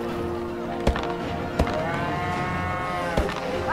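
A cow moos in the South Park game Stick of Truth, a long, loud, drawn-out call with a few sharp thwacks landing during it, close and clear with no talk.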